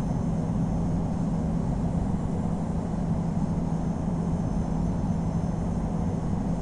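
A Lufthansa Airbus A350 takes off from runway 25 center at Frankfurt in the flight simulator game Infinite Flight, with a loud, steady, unbroken jet engine roar from start to finish.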